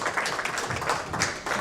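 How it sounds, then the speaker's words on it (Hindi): Audience applause at a press conference, greeting the folk fusion duo Colonial Cousins as they come up; a dense, steady wash of many hands clapping close by, with no voices over it, for under two seconds. "जोरदार तालियों से स्वागत करें."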